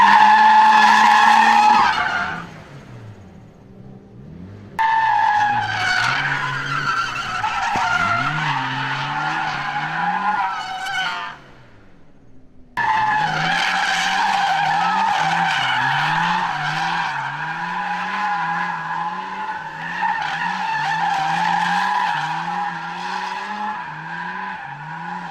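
A car drifts around a track with tires squealing in long, loud wails, broken by two short lulls before the skidding screech and engine roar surge back close and sustained.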